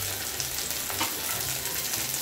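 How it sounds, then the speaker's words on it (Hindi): Tomatoes frying in a pan, giving a steady, close hiss of sizzling oil that continues without pause and with no speech. "और इसको हमें करना है फ्राई"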